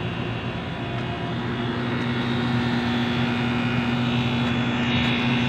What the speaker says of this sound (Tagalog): Tunog ng compressor yan mga tropa.